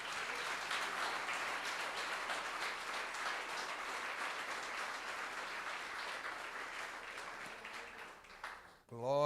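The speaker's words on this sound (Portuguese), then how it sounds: "Você pode aplaudir Jesus?" A church congregation applauding during a Brazilian Portuguese service, sustained dense clapping and cheering that holds steady for several seconds, then fades before a voice begins at the end.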